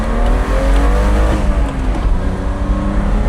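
Vintage BMW 2-litre six-cylinder engine revving close by, a loud, raspy, sustained roar with rising and falling pitch across the whole stretch, no talk.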